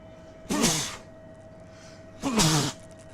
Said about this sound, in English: Oh, here comes the sneeze.